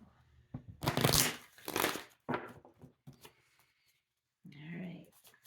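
Playing cards riffle and shuffle close by in several quick bursts, with a brief pause before a final shuffle.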